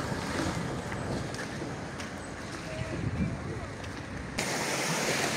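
Wind rushes steadily across a beach by the sea in Italy, with waves washing in beneath the broadband roar; the noise stays loud and close throughout, swelling slightly near the end.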